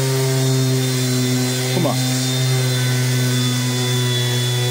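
A Parkside Performance 12V cordless orbital sander runs steadily while sanding with dust extraction, a loud, close, even motor whine with a steady hum, and a person talks briefly over it.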